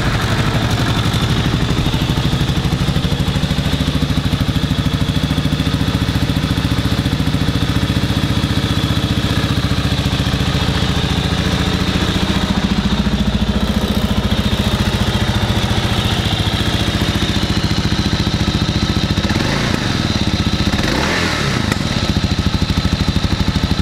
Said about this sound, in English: let's go ahead and fire it up and listen how she sounds